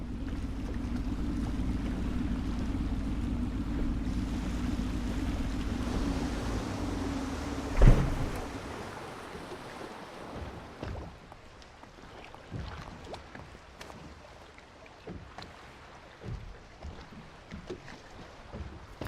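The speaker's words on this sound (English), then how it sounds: "I should concentrate on piloting this boat" A boat moves through water in the game Dishonored with a steady low engine rumble that fades after a brief thump, leaving soft lapping water and faint wind.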